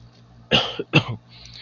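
A person coughs twice in quick succession, close and fairly loud, against a quiet background.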